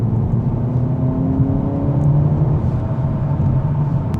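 2025 Volkswagen Jetta GLI in sport mode with exhaust valves open, accelerating onto a road: a steady deep engine rumble and rising whir heard from inside the car, continuous and fairly loud.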